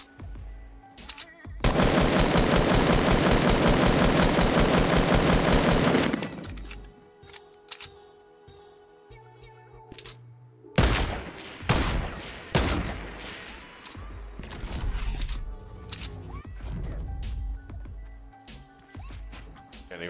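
Sustained automatic gunfire from a Fortnite match, a dense loud burst lasting several seconds, followed by scattered single shots, thuds and game noises at varying distances.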